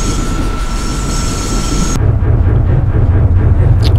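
A BR95 steam locomotive in a train simulator game starts to move. A steady loud rumble with rail noise and a high whistling tone runs throughout, shifting to a deeper churning chug partway through.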